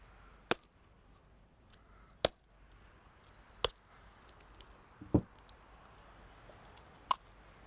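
A stone strikes a ripe coconut to crack it open: five sharp, isolated knocks at uneven intervals, close but fairly quiet, over a near-silent background with no voices.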